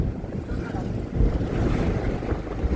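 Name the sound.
flooded Godavari river water flowing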